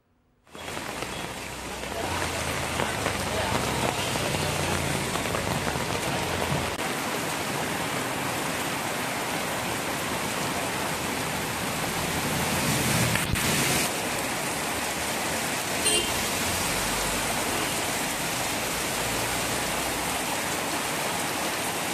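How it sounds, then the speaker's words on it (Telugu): Steady heavy rain pours continuously over Hyderabad, a dense hiss of drops drumming on surfaces throughout, with no voices. "భారీ వర్షం కురుస్తోంది"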